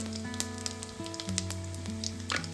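Whole spices and cashews frying in oil for a pea pulao, a soft, steady sizzle with small crackles, faint and close, with no voices.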